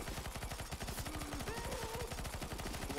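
Dense, rapid automatic gunfire in a video game crackles steadily and evenly throughout, with faint tonal game effects sounding underneath.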